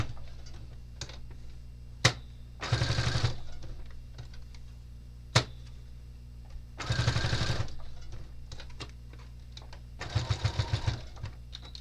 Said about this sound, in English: I'm just going to sew around, put my needle down so it holds it in place for me, and then sew around it.